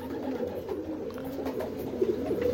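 Racing pigeons of Canadian lineage coo steadily in a loft, a continuous low burbling with a few louder coos near the end, close and alone with no talk.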